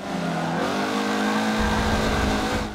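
A racing car in the Forza driving game drones loudly and continuously with a harmonic engine whine. Its pitch shifts as the car brakes late into a turn, with a rumbling low layer building toward the end.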